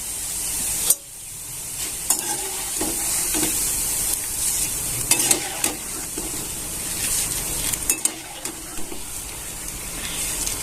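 Plain poha deep-fried a little at a time in moderately hot oil, a loud bubbling sizzle and spray that surges sharply after batches drop in, with scattered metallic clicks of a ladle.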